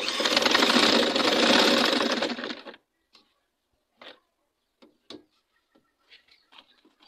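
Sewing machine stitching fabric for a center ruffle turban, a steady close mechanical whir running for about three seconds before stopping, followed by a few faint scattered clicks and handling sounds.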